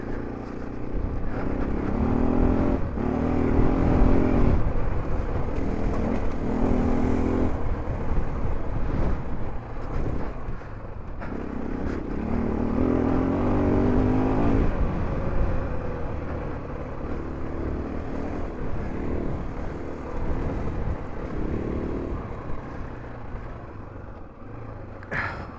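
A 2024 Husqvarna FE501S dual sport motorcycle is ridden fast over rocky terrain with reworked suspension. Its single-cylinder engine drones steadily throughout, swelling and easing with the throttle under heavy wind noise, loud and close to the rider.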